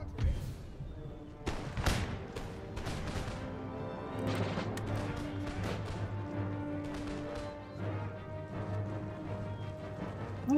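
Musket volleys from line infantry in the Empire: Total War battle game, a clustered run of sharp cracks and thuds with scattered distant shots over a steady droning battlefield bed.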